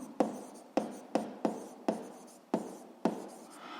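Pen writing out a physics formula on paper: seven crisp, evenly spaced strokes and taps, each a short scratch that fades quickly, close by and quiet with no talking.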